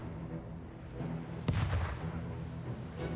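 Cannon fire from a trading post in the strategy game Anno 1800, a single sharp boom with a short rumbling tail over steady game ambience.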